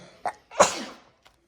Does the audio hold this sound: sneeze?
yes